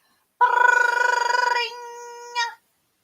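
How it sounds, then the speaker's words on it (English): A telephone rings once in a story: a close, clean warbling trill that stops abruptly, followed by a short fading tone and a brief second chirp. "the phone rang."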